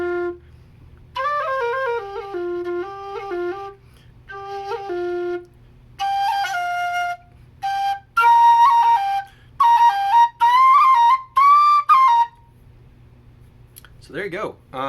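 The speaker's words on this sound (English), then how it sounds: "That's the Reyburn Brass low F whistle" A Reyburn brass low F whistle played in short melodic phrases of held and ornamented notes, clear and close with small pauses between, ending on a quick rising slide.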